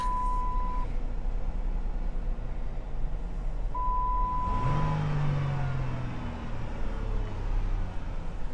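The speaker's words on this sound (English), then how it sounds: "yes, the car runs and drives" A used car with 167,000 miles runs and drives, its mid-pitched engine hum steady and fairly quiet, swelling briefly as it revs, with a faint tone heard early on.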